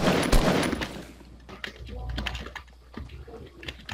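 Rapid bursts of gunfire in Fortnite crackle loudly at the start, then scattered shots and clicks follow, mixed with quick keyboard-like tapping.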